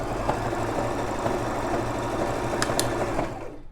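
Brother LX3817 sewing machine running at full speed, a continuous loud whirring hum with an even rapid needle rhythm that holds steady and then fades at the end.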